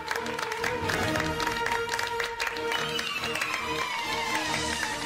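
An audience applauds at a felicitation ceremony in a Marathi TV serial: dense, continuous clapping that stays loud and steady for about five seconds over sustained musical tones.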